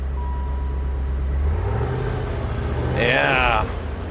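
A Chevrolet C4 Corvette engine fires up and settles into a low, steady burble, with a brief higher-pitched rise near the end and people talking over it.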